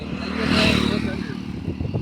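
A motorbike engine swells briefly in a short rev, close and loud, then settles into a rough chugging idle.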